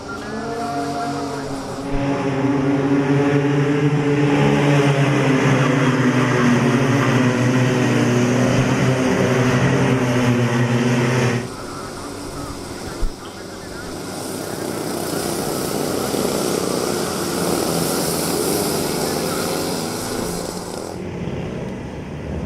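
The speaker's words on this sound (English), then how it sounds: "Here comes the drivers making their way towards the start-finish line." Racing karts from the Rotax Max classes at a national karting championship roar past toward the start-finish line, a loud, steady engine drone holding for about eleven seconds before shifting to a more distant, broadband rush of several engines.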